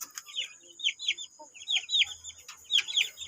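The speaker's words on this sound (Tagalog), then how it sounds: "Mga chicken." Backyard chickens clucking in short repeated bursts, several calls overlapping at close range, with a faint low hum underneath and no talk.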